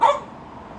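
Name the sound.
dog barking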